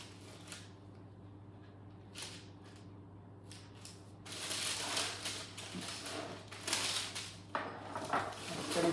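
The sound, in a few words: spatula cutting scone dough into wedges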